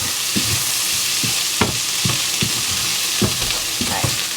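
Vegetable pasty filling sizzling in a hot pan under a constant fry hiss, with a spoon scraping and stirring in several soft, uneven strokes, close by.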